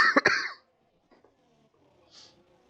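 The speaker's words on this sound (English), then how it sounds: "I thought my cough went, but obviously it clearly hasn't." A man coughs and clears his throat, a short loud burst of two or three harsh hacks at the start during sim-racing commentary on the Chinese Grand Prix, then near silence with only faint quiet sounds afterward.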